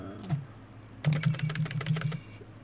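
Keys clatter on a computer keyboard in a quick burst of about a dozen close, crisp taps over a low steady hum, with one isolated tap before the run.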